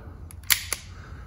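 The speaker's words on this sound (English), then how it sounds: "You can cock the gun" A semi-automatic pistol with a decocker, safety and an empty 15-round magazine being cocked, giving two sharp metallic clicks close up in a quiet room.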